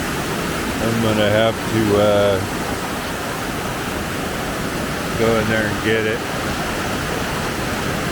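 Rushing water pours steadily through a culvert, a loud, constant roar filling the whole stretch while someone speaks briefly over it.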